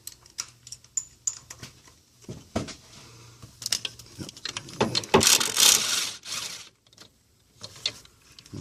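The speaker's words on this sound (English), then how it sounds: "take off the 10mm nut that holds the coils down" Ratcheting and metallic clicks of a wrench loosening the 10mm nut that holds down the ignition coils on a 2004-2011 Mazda RX-8, with irregular close tool taps, scrapes and a short rattling burst, no talk.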